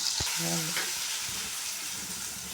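Saagu mixture, a vegetable curry base, fries in a pan after salt goes in, giving a steady, fairly loud sizzle and hiss with a few early clinks and scrapes from stirring.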